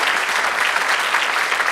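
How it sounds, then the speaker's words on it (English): An audience at the Cambridge City Band holiday concert breaks into dense, steady applause. The clapping is loud and continuous from start to finish, with no break. "A round of applause for everything these people do."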